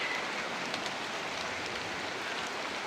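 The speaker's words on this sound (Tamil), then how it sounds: "இங்கே பக்கம் பார்த்தால் நல்லா மழை பெய்யுது." Light drizzling rain falls outdoors near the seashore, a soft, even hiss of fine drops that continues without a break, moderately quiet and alone.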